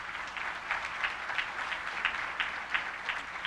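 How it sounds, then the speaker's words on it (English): An audience at a local dance competition claps steadily, a dense patter of many hands applauding at moderate volume throughout. "Now you're clapping"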